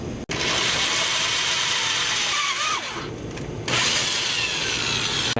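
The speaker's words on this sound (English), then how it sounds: "I'm gonna leave the saw blade on and then drill into it" Power drill boring through a saw blade clamped to a metal piece for a homemade tomahawk; a loud continuous grinding whine runs close up, with a short dip midway before the drilling resumes.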